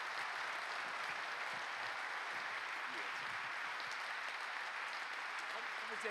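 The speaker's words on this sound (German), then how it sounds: "Noch ein Runtergeh-Beifall" Steady, dense applause from a large audience at a political event as a speaker leaves the stage, continuous broadband clapping at a moderate, distant level without a break.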